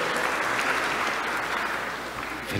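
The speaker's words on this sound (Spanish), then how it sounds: "Continuemos aplaudiendo, celebramos todos." Steady applause fills a hall during a Class of 2021 graduation ceremony as names are read, a continuous moderately loud wash of many hands clapping with no pause.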